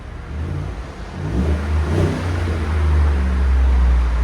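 A 2017 Chevy Silverado LT with a 5.3L V8 and Borla Pro-XS exhaust revs up close by, its deep rumbling exhaust swelling and holding loud, with no talking.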